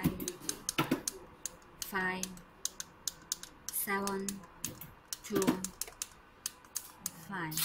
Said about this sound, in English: I use this small keyboard to put in the number.